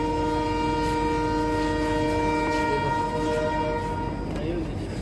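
A passenger train departing Dullabcherra rolls with a steady, loud rumble, and a sustained horn-like tone holds through most of the stretch before fading near the end.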